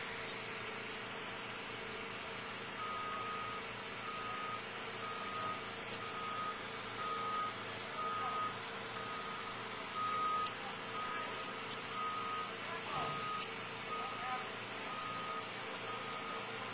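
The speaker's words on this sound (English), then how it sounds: "It's really funky how it extrudes out of this machine." A curb extruding machine works on a street while a vehicle sounds repeated reversing beeps over a steady engine rumble and outdoor background noise. The beeps come in intermittent runs and are moderately far off.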